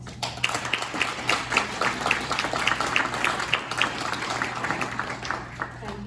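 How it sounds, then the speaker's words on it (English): Applause from an audience at a 2022 municipal council inauguration meeting, a steady patter of many hands clapping at moderate distance, sustained for several seconds over a low background hum. "please give our council a round of applause"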